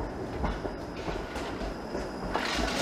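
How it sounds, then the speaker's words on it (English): A Toronto streetcar with an overhead pantograph rumbles past on a city street, its wheels clacking and faintly screeching in a continuous, fairly close roar. "this screechy streetcar makes its way from Dundas heading south of Broadview"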